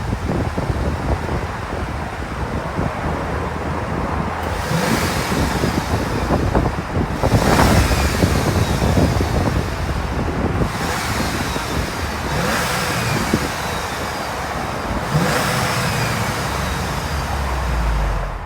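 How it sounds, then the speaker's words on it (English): A 2023 Audi A3 2-liter turbo engine starts and revs repeatedly, rising and falling in several surges, with steady engine rumble between bursts and some wind noise. "let's fire up this 2-liter turbo"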